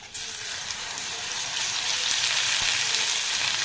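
Ground masala with chili powder and coriander powder sautéing in hot oil for a salted fish chutney, a steady, loud, close sizzle that continues unbroken throughout.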